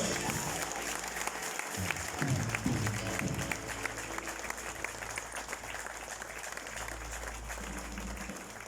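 An audience applauds at a graduation ceremony, with sustained, dense clapping from a large crowd that continues steadily throughout, with some faint voices mixed in.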